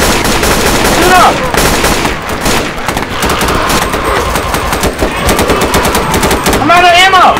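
Rapid automatic gunfire from a Garry's Mod zombie apocalypse game set in New York City, loud and nearly continuous bursts throughout, with a voice calling out briefly over the shooting.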